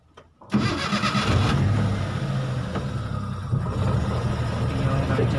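A car engine cranks and catches after a brief quiet moment, then settles into a steady, fairly loud idle hum that carries on for several seconds, recorded from inside the vehicle during a driving lesson.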